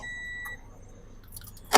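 A Toyota Vios car alarm, freshly rewired, gives a faint electronic tone and then one sharp, loud chirp at the end as it is unlocked by remote; no one speaks.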